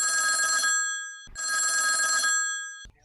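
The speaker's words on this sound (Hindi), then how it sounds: "एक और फोन आ गई से।" A telephone rings with an incoming call: two long electronic bell trills, each lasting about a second and followed by a brief pause, loud and close, with no talking.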